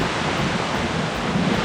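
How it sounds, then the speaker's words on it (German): Fresh wind blows outdoors on the Appalachian Trail in Shenandoah National Park, a steady broadband rush buffeting the microphone at fairly loud level with no talk. "Oh, der Wind ist frisch, ich muss in Bewegung bleiben."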